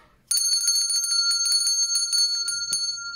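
Bright bicycle-style notification bell ringing repeatedly, close and loud, a rapid series of clear metallic dings that starts abruptly after a brief quiet moment and continues to the end.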